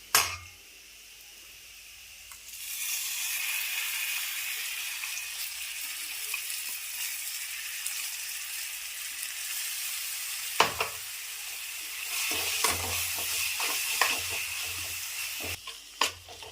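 A blended paste of tomato, garam masala and cashews sizzling in a pan for chicken curry while being stirred, a loud, steady hiss with sharper scraping stir strokes late on, close up and without speech.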